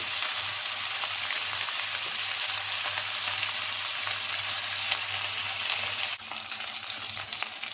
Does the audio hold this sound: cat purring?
no